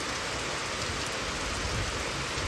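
Steady, dense rainfall hisses evenly on surfaces nearby, unbroken and without any voices.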